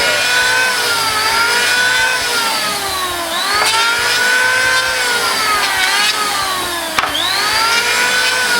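An electric wood planer cuts along the edge of a wooden panel door with a loud, close, steady motor whine. The pitch sags under load and rises again on each pass, repeating across several strokes.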